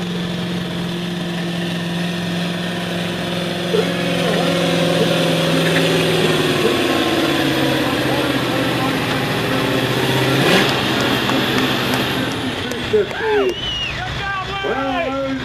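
Heavy 15,000 lb farm tractor engine at an outdoor tractor pull, a steady loud drone with a rising surge midway, heard under a public-address announcer talking throughout.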